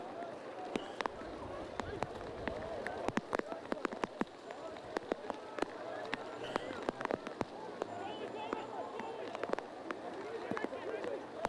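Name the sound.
rain falling on a football ground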